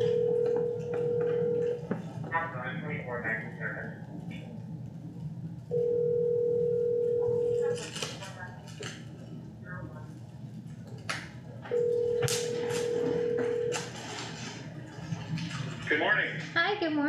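Telephone on speakerphone in a county board of supervisors meeting room: three steady dial-tone stretches separated by quick keypad dialing beeps and clicks, loud and close, with people talking in the background.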